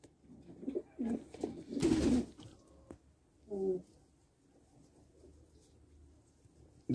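Pigeons cooing in a coop, soft low throaty coos near the microphone, a couple of bursts separated by quiet stretches, with faint rustling and scraping around them.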